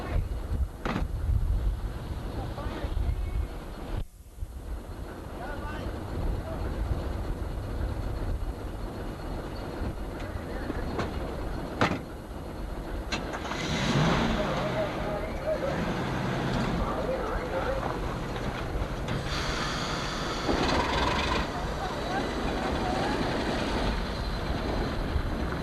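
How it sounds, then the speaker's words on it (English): Bay Colony Alco 1061 locomotive rumbles as the train pulls out of Needham Center station, a low steady drone with squeals and clanks, wind buffeting the microphone and someone narrating over it. "As the train gets ready to depart Needham Center, we're going to take a look back in time."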